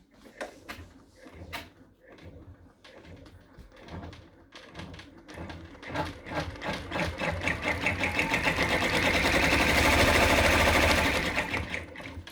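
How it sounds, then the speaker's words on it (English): An in-the-hoop embroidery machine stitches the ears of a polar bear stuffed toy in black thread, starting with a few separate clunks before settling into fast, rhythmic mechanical stitching that grows louder and steadier, heard close up and alone. "the hoop goes back to the machine and the ears are stitched in place"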